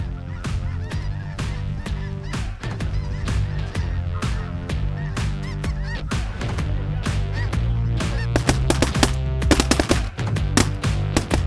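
A large flock of snow geese honks loudly and continuously over prairie, with dense, overlapping calls and sharp bursts near the end that sound like shotgun fire.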